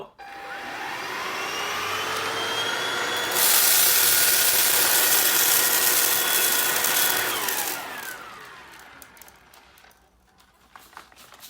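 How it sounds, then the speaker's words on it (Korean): A Shinil vacuum cleaner runs loudly and steadily, its pitch rising into a harsh whine for several seconds as it sucks up cat litter, then winds down. "신일 청소기로 고양이 모래를 빨아들이는 테스트를 해볼 거예요"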